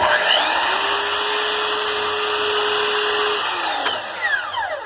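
A table saw spinning up and slicing through a new zero-clearance throat insert, a loud steady whine with a rising pitch sweep as the blade cuts, then winding down with fading tones.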